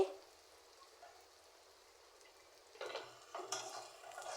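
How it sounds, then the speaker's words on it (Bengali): Thickly cut flat beans and potatoes for bhaji hit a pan and start frying, a faint quiet stretch giving way to bursts of sizzle and stirring clatter near the end. "ভাজিটা বসাবো সিম আলু ভাজি"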